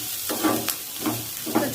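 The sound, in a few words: onions and dried red chillies frying in a pan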